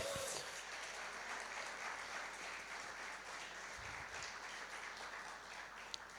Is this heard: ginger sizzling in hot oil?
no